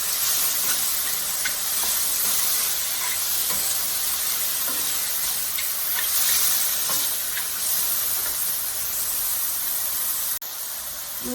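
Garlic and a splash of chicken stock sizzle and hiss steadily in a pan for mushroom pasta, a dense, continuous fry with occasional stirring scrapes and one brief dip near the end; no talking.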